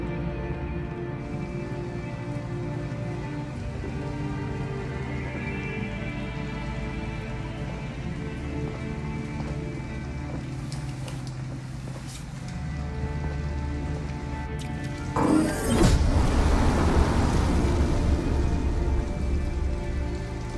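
Heavy rain pours steadily in Detroit: Become Human, a dense continuous hiss with a low rumble beneath, swelling louder near the end with a sharper splash of noise.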